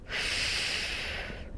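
A single long, steady breath of forced air, close and fairly loud, sustained for over a second in a quiet room during yoga reverse-breathing practice.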